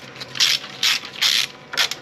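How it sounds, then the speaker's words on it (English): A hand ratchet turns 10 millimeter bolts on a 2012 Jeep Wrangler, four close, crisp bursts of rapid clicking separated by short pauses. "now I'm just going to take these two 10 millimeter bolts off."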